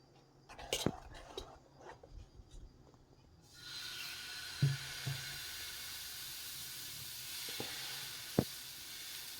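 Sweet dosa batter hits a hot pan and sets off a soft, steady sizzle midway through, with scattered utensil clinks around it and faint low voices at the start.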